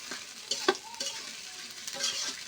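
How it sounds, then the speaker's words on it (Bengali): Spiced ghetkol stirred in a hot frying pan, with a soft continuous sizzle and several scraping spoon strokes against the pan, one distinct clatter midway, close up and without speech. "এবার এটা আমি অনেকক্ষণ ধরে এটা ধৈর্য সহকারে নাড়তে হবে।"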